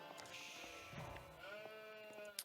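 Sheep bleat faintly in the Age of Empires 4 strategy game, a couple of thin wavering calls over a quiet background of game sounds, with no talking.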